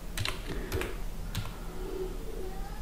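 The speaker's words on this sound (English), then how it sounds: "we have to type in config" Keys on a computer keyboard are tapped in a few quick, light clusters, close and fairly quiet over a low background hum, with no speech.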